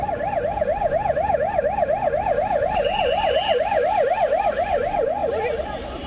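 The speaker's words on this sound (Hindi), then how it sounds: "इटावन इलाके की सड़कों पर हर तरफ एम्बुलेंस के सायरन गूंज रहे थे" Wailing ambulance sirens in the streets of Itaewon, Seoul, after the 2022 Halloween crowd crush: one sweeps up and down continuously, loud and close, a second higher siren joining partway, over steady traffic rumble.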